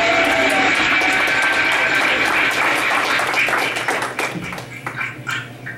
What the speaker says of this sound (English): Everybody give a round of applause right